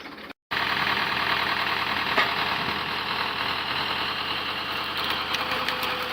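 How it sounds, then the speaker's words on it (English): A tractor-mounted cone log splitter runs steadily on an open plot near the woods, its engine giving a constant droning rumble throughout, with a brief dropout at the start. "the cone log splitter mounted to a tractor is in steady operation"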